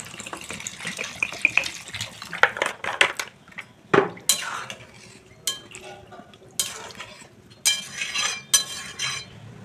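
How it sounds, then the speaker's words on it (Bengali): Water poured into a pot of Bengali khichuri with stirring and scraping, the pour and clinking of a utensil coming close and loud in bursts, with no voices. "এবার দিয়ে দিচ্ছি পরিমাণ মতন জল"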